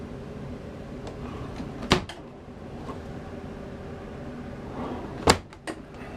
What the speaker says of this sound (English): Full extension drawers here.